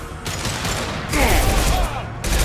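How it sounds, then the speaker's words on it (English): Concussive shot gunfire from Mass Effect 2 comes as loud, close blasts in two dense bursts, with a sharper impact just past the one-second mark and a fresh blast near the end. "Firing concussive shot"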